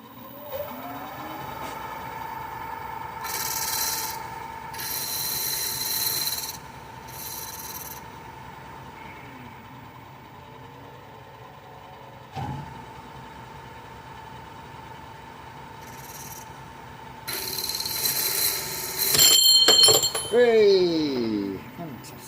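A file chamfers the corner of a brass-and-steel part for a Britannia live-steam model locomotive in two bursts of rasping strokes, close by over a steady background hum.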